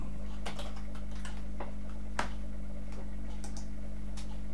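Keys tapped on a computer keyboard while entering an IP address, a run of separate clicks in an uneven rhythm over a steady low hum, nearby and fairly soft.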